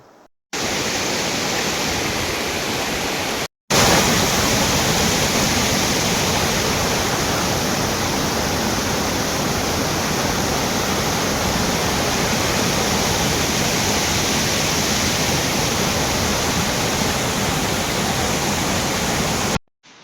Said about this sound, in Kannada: ಇನ್ನು ಮುಂದೆ ಇದೆ ಫಾಲ್ಸ್